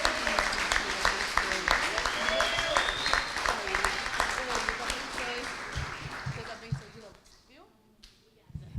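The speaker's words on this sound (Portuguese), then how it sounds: "Vamos aplaudir o Senhor pela vida deles?" A church congregation at a Sunday service claps together, loud and sustained with some sharp individual claps, then tapers off near the end as a few voices come through.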